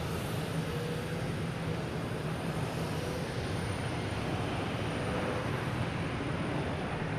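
A big Delta airliner bound for Heathrow rolls past at Boston Logan Airport, giving a steady, moderately distant jet roar that holds evenly from start to finish with no talk.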